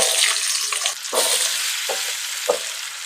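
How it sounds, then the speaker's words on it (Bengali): Potatoes frying in hot mustard oil in a wok, heard close up as a loud continuous sizzle with several sharp stirring scrapes spaced through it, and no talking. "কড়াই গরম হয়ে গেছে সর্ষে তেল দেব কেটে ধুয়ে রাখা আলুগুলো দিয়ে দেব"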